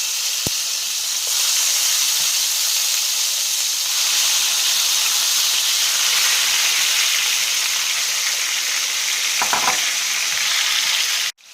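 Chopped tomatoes frying in a pan for a mixed summer vegetable dish, a steady loud sizzle and hiss running throughout with a couple of faint clinks.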